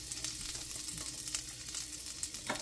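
Beef steak fries in butter with a clove of garlic, a soft, steady sizzle and spatter close by, with a few light scraping touches and no talk.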